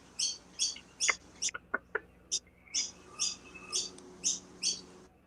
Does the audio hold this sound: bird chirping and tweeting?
yes